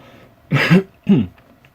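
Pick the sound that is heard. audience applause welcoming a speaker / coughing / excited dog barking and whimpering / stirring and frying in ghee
coughing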